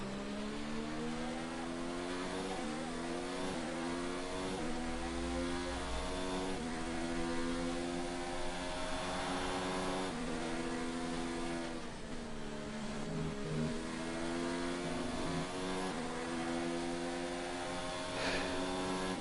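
A Formula 1 race car in the F1 2019 video game screams through gear changes and revs during a British GP race, a loud continuous engine whine that rises and falls with shifts, alone without speech.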